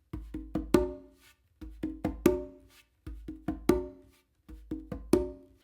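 Conga patterns repeat four times, each a quick run of soft fingertip taps with the dominant hand building to a ringing open tone, close and clear with short silences between groups.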